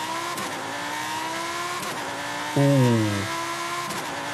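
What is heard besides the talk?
2018 Lamborghini Huracan Super Trofeo Evo engine, video game Forza Horizon 5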